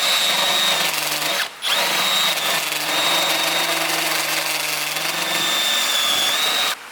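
A spot weld drill bores out spot welds on a metal bracket of a Nissan 350Z, a close, loud, steady whine that stops briefly and restarts, running almost continuously without talk.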